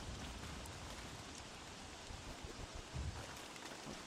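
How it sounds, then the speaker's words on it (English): Steady rain falling in the video game Don't Starve, a faint, even hiss of drops continuing throughout with no talking. "The other thing is it's raining"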